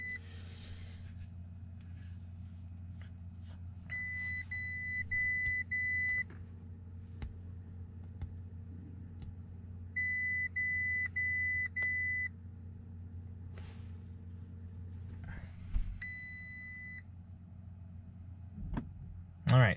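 A car being ECU-flashed with a custom tune sends out repeated bursts of electronic beeping chimes at intervals over a steady low engine idle hum, with occasional clicks and thumps from the suspension and electronics.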